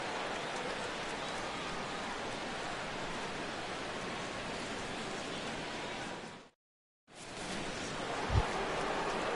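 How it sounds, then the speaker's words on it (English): Rain falling during a baseball game in MLB The Show 17, a steady soft hiss that drops out briefly, then resumes with one low thump. "Rain continues to fall here in the 6th."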